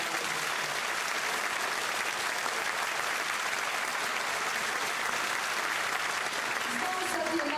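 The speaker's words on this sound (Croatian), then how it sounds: "bit će ovakvih aplauza na otvorenoj sceni" An audience at a gymnasium school choir concert in Čakovec claps loudly and steadily in a dense, continuous applause filling the hall.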